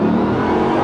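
A Bugatti Veyron's quad-turbo 8-liter W16 engine pulls hard under acceleration, a loud, dense, continuous roar heard up close for under a second.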